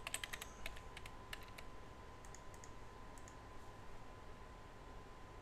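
Faint, quick clicking of keys on a computer keyboard as an email address and password are typed, a burst of taps at the start, then sparse clicks over a low hum.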